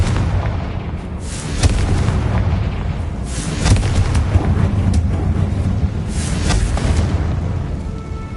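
Blasting-spell explosions in Hogwarts Legacy boom loudly in a tomb, several heavy bursts a second or so apart over a continuous rumbling game background.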